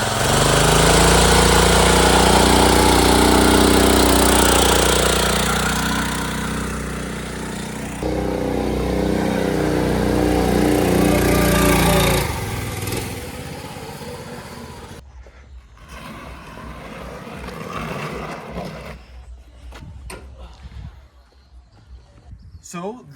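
A drag strip go-kart with normal front wheels and oversized rear tires drives past, its small engine buzzing loud and steady up close for about twelve seconds before fading into a distant drone.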